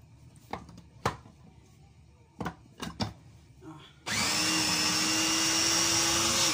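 An electric food chopper chopping ham: a few clacks of parts being handled first, then the motor starts and whirs steadily, loud and close, until the end.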